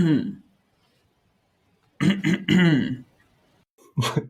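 A short, throaty cough near the start, followed by silence, then a voice speaking briefly and a sharp vocal sound at the end.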